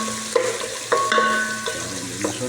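Vegetables and sardines being stir-fried in a pan, with a steady sizzle broken by several sharp scrapes and clanks of the spatula as the food is tossed, close and fairly loud, with no talking.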